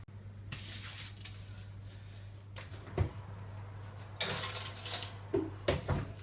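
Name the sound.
oven tray with omelette roll put into the oven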